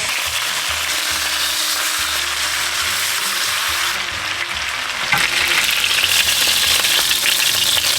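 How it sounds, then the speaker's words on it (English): Food sears in a hot pan with honey and soy sauce during meal prep, a steady dense sizzle that runs throughout, with occasional stirring scrapes and a slightly louder burst of frying near the end. "I want this to get like a good sear on it as well before I add the chicken back in."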